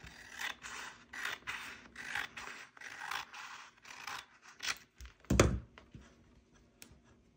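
Scissors trim the edge off a vinyl decal for a tumbler design, making a quiet series of soft, rhythmic snips and rubbing sounds, closing with one sharper thunk, with no voices.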